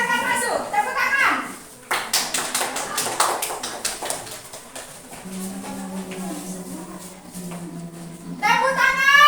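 Children in a classroom clap their hands in a quick burst of sharp, rhythmic claps, with children's voices and chatter before and after.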